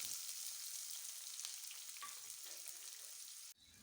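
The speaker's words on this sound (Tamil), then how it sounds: "நம்ம வந்து கட் பண்ணி வச்சுருக்கிற பெரிய வெங்காயம் அதையும் போட்டு நல்லா வணக்கிக்கலாம்" Chopped large onion fries in hot oil with popped mustard seeds for bitter gourd thokku, a faint, even hiss with a few light stirring scrapes. It cuts off abruptly just before the end.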